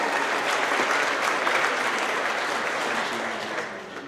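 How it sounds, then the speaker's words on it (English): Audience at a Melton Truck Lines monthly celebration applauds employee service milestones, a dense, steady wash of many hands clapping that fades slightly at the end, with no voices over it. "Let's give these guys some applause"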